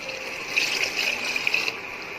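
Water pours steadily into a pot for Thalappakattu-style mutton biryani rice, a close, continuous trickling stream with a bright, gushing tone.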